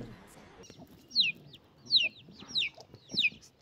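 A chick gives four thin, downward-sliding cheeps at an even pace, clear but fairly soft against a low background murmur.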